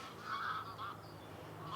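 Geese honk softly in the distance near Delft, Netherlands, several overlapping calls over a faint background hum.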